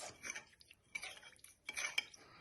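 Spoon stirring a duck marinade of water and salt in a bowl, several short scraping clinks in uneven bursts, close and fairly quiet, with no talk.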